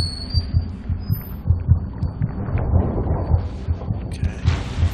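Heartbeat in the dark horror video game Among the Sleep, a steady, fairly fast run of deep thumping double beats over a low hum, with no talk.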